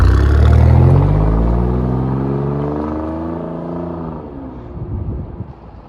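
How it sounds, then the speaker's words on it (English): Alfa Romeo Giulia Quadrifoglio accelerating hard, loud deep engine and exhaust rising through the revs then easing off, with a few sharp pops near the end. "It literally sounds like a shotgun's going off every time you change gear."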